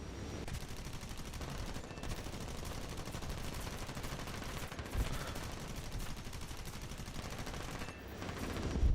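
Aircraft cannons in War Thunder fire in long continuous rapid bursts, dense and loud throughout, with a brief pause near the end before firing resumes.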